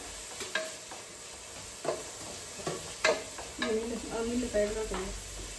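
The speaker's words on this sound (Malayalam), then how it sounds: "ഇത് ഒത്തിരി ബ്രൗൺ കളർ ആയിട്ടാണ് ആ ഉള്ളി ഇടാൻ" Onions, including crushed small onions, sauté in a pan until brown for chicken biryani. A soft sizzle runs beneath scattered stirring scrapes and clinks of a spoon against the pan, heard up close.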